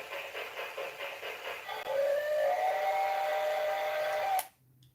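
Toy Christmas tree train set giving off a rhythmic chuffing that shifts into a sustained, slightly rising steam-whistle tone, held for a couple of seconds before cutting off abruptly into near silence.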